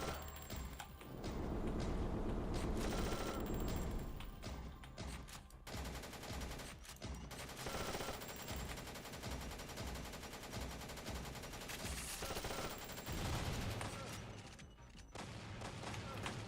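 Loud, dense shotgun gunfire from a movie scene, blasts and clattering mechanisms running almost continuously with a few brief dips, mixed with faint voices.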